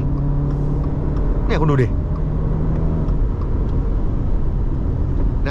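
A 2021 Subaru Outback with its 2.5 boxer engine cruises steadily as it changes lanes, with a low, even road and engine rumble running throughout and someone talking over it in the cabin.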